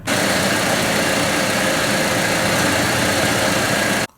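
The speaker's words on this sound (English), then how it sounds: "Alright, so the truck's running now." A 2005 Toyota Tacoma truck engine idles steadily after an alternator replacement, a dense continuous rumble held at constant loudness for about four seconds before cutting off abruptly, with no voices.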